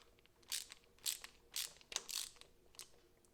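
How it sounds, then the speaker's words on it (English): Screws on a cable clamp of a mains plug for a buzz box welder converter are tightened with a screwdriver in short close ratcheting bursts, about five separate turns spaced across a quiet background. "We're going to tighten the cable clamp around the end so it takes the strain off the connections."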